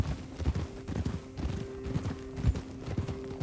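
Horse hooves clip-clop in a steady, even rhythm during a ride, several close, distinct hoof strikes each second with faint background noise and no talking.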